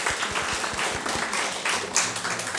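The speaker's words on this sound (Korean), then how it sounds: "행사를 준비해 주신 남선교 회원들께 박수로 한번 격려하겠습니다" A church congregation claps in encouragement, with sharp individual claps standing out near the start before blending into a looser patter of hands, moderately loud and close.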